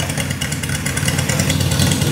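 A Riva 600cc engine idles steadily with a deep, even, loud rumble through its exhaust, a sound likened to a V8, continuous and close with no voices.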